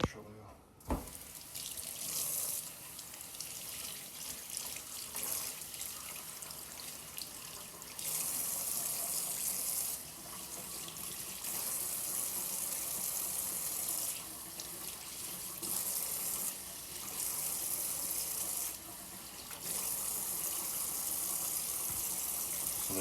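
Water runs steadily from a tap as a cleaned brown trout is rinsed under it, a continuous close splashing gush that swells and eases as the fish moves through the stream.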